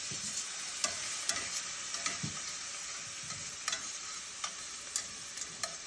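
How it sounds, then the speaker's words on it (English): Onions cooking down in butter and wine in a pot for shrimp Alfredo sauce, a steady sizzle broken by repeated sharp clicks and scrapes of a stirring utensil, close and without talk. "Let these onions cook down for a minute before we put the heavy cream in there"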